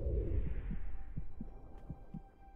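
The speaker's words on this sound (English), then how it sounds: "I heard my heart beating like the beat of a drum." A slow thumping heartbeat plays in a survival video game, with soft evenly spaced double pulses over a low droning hum, quiet and close.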